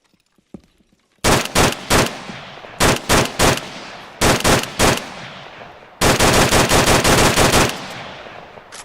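Suppressed weapon fire in the Arma 3 video game, heard as sharp repeated shot bursts in several groups, ending with a long rapid automatic stream, loud and close with no talk.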